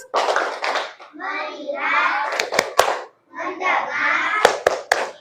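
A group in a teacher training session claps a short counted focus rhythm, a few sharp near claps spaced among ongoing chanting and talking voices.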